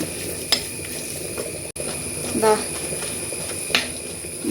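Meat masala and spices sizzle in hot oil in a pan as they are stirred, giving a steady frying hiss with occasional scraping clinks. A voice talks over it.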